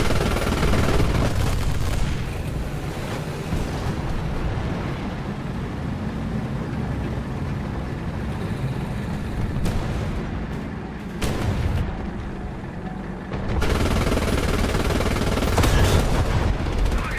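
Heavy, sustained gunfire from a tank gun in War Thunder, a dense continuous roar of shots and booms with a few brief dips, loud and close throughout.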